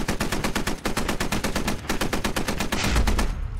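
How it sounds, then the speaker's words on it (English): A .50 cal heavy machine gun firing in the Squad video game, a loud, close, steady string of rapid rhythmic shots ending in a final heavier burst. "Is that a 50 cal in here?"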